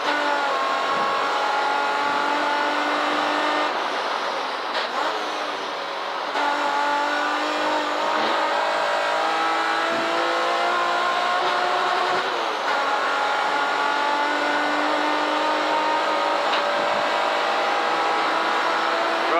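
A race car on slick tyres circles Castle Combe circuit and heads into the pits, its engine droning loud and steady from inside the car with gear changes shifting the pitch throughout.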